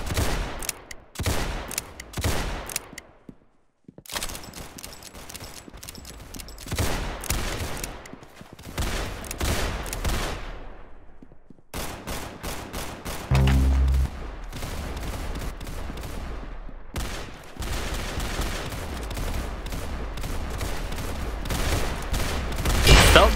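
Rapid gunfire, probably from a video game, loud bursts of automatic fire and fusillades broken by short silent gaps, with shots coming in dense volleys.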